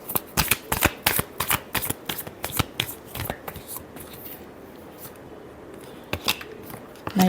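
Tarot cards are shuffled by hand in quick riffling bursts, a crisp rapid flutter that pauses briefly midway and resumes, close and clear with no talking.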